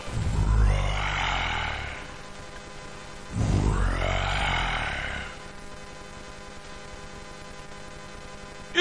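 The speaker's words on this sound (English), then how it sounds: "and you hear a lion" A lion gives two long, deep roaring grunts, each lasting about two seconds with a pause between, loud and close, then the clip falls quiet.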